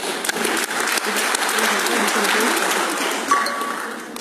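A hall full of alumni and new students at a faculty of engineering reunion breaks into sustained applause, dense and even throughout, with a brief bright ping near the end.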